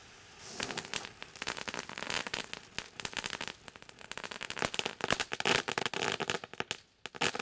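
Fireworks sounds play in a dark-room art installation, with projections behind glass. They come as dense, rapid crackling and popping bursts, faint but continuous and thickening over the seconds, with no voices.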